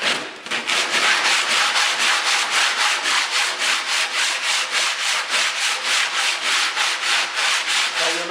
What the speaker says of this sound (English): I'm just going to go ahead and proceed with sanding this.